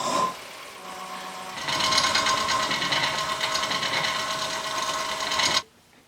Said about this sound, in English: Bowl gouge is doing the job